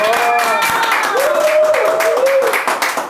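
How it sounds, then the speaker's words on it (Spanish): A podcast studio audience claps loudly to welcome a guest, the dense applause running throughout while a voice cries out with rising and falling calls over the top. "yo quiero que recibamos con un fuerte aplauso a Juan Sebastián Herrera, por favor."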